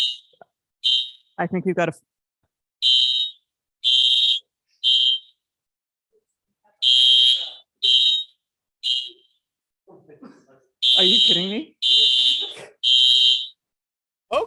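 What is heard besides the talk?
fire alarm going off in venue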